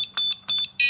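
Airsoft timer prop keypad sounding its error tone for a wrong code: a few short, shrill electronic beeps in quick irregular succession ending in a longer sustained beep, loud and close.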